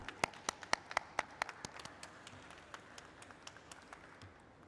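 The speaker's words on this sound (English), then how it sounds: "when the music goes down, applause does all the talking" Sparse hand clapping at an IPO listing ceremony for an insurance company in Mumbai, a few sharp distinct claps at first then fading into a soft, distant patter.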